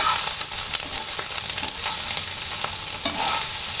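Soybean chunks frying in hot oil in a pan, stirred steadily with scraping utensil strokes over a constant close sizzle, no voices.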